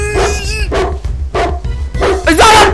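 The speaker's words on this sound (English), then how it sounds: "Is that a dog?" Dog barks from the video game Around The Clock At Bikini Bottom, several short yelping bursts in a row over a steady game background, with a rising whine at the end.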